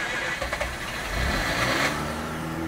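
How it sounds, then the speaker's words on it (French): A Mazda RX7 rotary engine cranks briefly and catches, then settles into a steady idle hum close by, a short start with no voices. "Elle démarre mais nickel."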